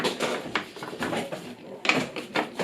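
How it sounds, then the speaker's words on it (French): A child plays with boxes, rattling and knocking containers in a series of irregular clattering bumps and scrapes nearby, with no one speaking. "Désolée pour le bruit, c'est ma fille qui joue avec les boîtes."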